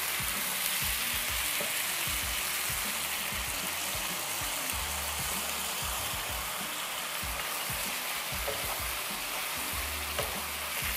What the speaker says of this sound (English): So you just keep stir frying the chicken, maybe about, I would say, another 3 minutes.